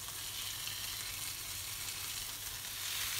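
Veal escalopes sizzle steadily in a hot frying pan, a continuous close, even crackle with no talking.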